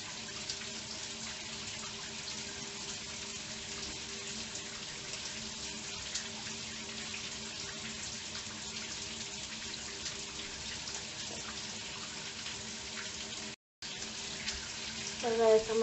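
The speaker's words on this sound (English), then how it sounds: "right now I'm waiting on the water to get warm" Shower tap running steadily as the water warms up, a continuous, even hiss of flowing water lasting the whole stretch with a brief break near the end.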